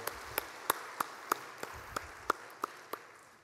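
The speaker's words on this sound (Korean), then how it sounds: "영광의 박수 올려드리겠습니다." A congregation's applause in a church service comes as a slow, evenly spaced run of about ten sharp claps, distinct and fairly quiet over a faint background.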